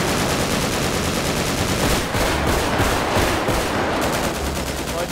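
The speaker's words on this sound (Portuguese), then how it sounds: "Cessar os disparos." Gunfire in GTA 5 roleplay, a loud, dense burst of rapid automatic shots rattling continuously with brief surges, filling the whole span without pause.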